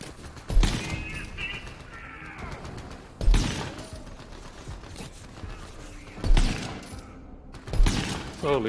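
A gun fires in Borderlands 3, heavy booming shots spaced a few seconds apart, each with a ringing, whirring tail and scattered mechanical clatter between them.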